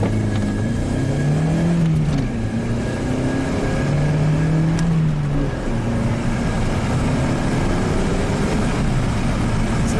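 An Opel Astra accelerates hard from a standstill toward 60 mph, its engine note climbing through each gear with audible shifts, steady and loud from inside the car, with no talking.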